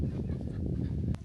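Chickens kept alongside goats and camels at a family's desert tent camp, clucking softly in a low, continuous murmur of farmyard noise, moderately close, with no clear individual calls standing out.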